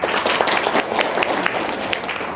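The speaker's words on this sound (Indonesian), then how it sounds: "Ibu Ida, tepuk tangan dulu dong." An audience at an RDAY testimony gathering breaks into applause for a woman from Sukabumi: dense, steady clapping from many hands that holds at an even level throughout.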